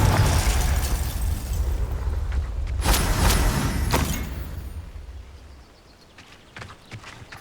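A Confringo fire spell in Hogwarts Legacy bursts with a deep, rumbling explosion that rolls on for several seconds, broken by sharp crackling pops, then fades into a few scattered snaps.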